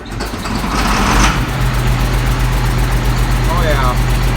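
A four-wheel drive farm tractor's engine turns over and settles into a steady, deep idle with a low rumbling drone throughout, a brief rise near the start, and a voice speaking over it.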